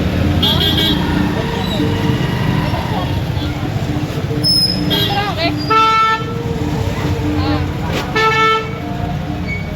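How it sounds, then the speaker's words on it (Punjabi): Busy road traffic on a cold evening, a steady roar of passing vehicles with several car horns tooting loudly and repeatedly nearby, a voice speaking over the din. "ਲੱਗੀਆਂ ਰੌਣਕਾਂ ਰੋਡ ਦੇ ਉੱਤੇ ਟ੍ਰੈਫਿਕ"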